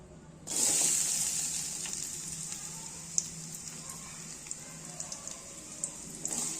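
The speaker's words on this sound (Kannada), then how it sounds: "ಇದು ಎಣ್ಣೆ ಕಾದಿದೆ ಆಲ್ರೆಡಿ. ಇದಕ್ಕೆ ನಾವು ಇವಾಗ ಉಳ್ಳಾಗಡ್ಡಿನ ಹಾಕೋಣ" Chopped onions hit hot oil in a pan for egg burji, setting off a sudden loud sizzle that settles into a steady close frying hiss with scattered small pops.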